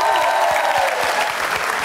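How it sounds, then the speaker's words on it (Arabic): Audience applause for Bashir on a Tunisian TV show, a steady dense wash of clapping from a studio crowd, loud and continuous throughout without any voices on top. "تصفيق على بشير"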